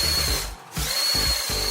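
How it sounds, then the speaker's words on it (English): A LEGO Crusher vehicle with a front lined with sharp gears grinds loudly against a single-layer paper wall, a harsh buzzing motor whine broken by short gaps as it pushes repeatedly. "we have the Crusher machine, equipped with a front lined with sharp gears, almost like a powerful drill"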